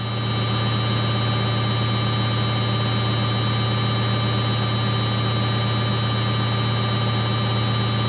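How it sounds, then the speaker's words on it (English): Samsung Eco Bubble front-load washing machine spinning at 1200 RPM, giving a steady, loud, continuous mechanical hum and whir with no variation across the stretch. "Now we're just spinning, and this it's doing at 1200 RPM"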